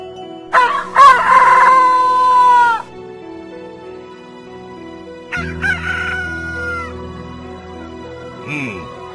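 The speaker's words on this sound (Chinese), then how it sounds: "山庄里的鸡也此起彼落地啼叫起来了。" Roosters in a mountain village crow one after another: two loud, drawn-out crows close by, then a later, softer crow, ending with a brief rising call.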